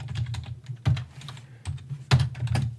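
Computer keyboard typing while entering Swift code, close and fairly loud clatter of keystrokes with a few heavier thumps that sound like spacebar or enter presses, and no speech.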